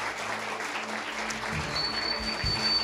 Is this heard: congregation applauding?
yes